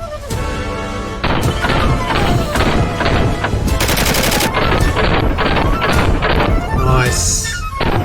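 L85A1 rifle fired at an outdoor shooting range, loud rapid shots in quick succession with crashing reports and echo, a voice speaking over part of the firing.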